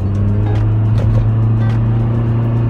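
A car with a CVT transmission accelerating hard, its engine giving a loud, steady, droning whine close by with no pauses and no talk.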